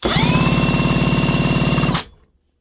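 A Milwaukee M12 Fuel brushless drill runs at full speed in a steady, loud whir for about two seconds, then stops abruptly and spins down to silence.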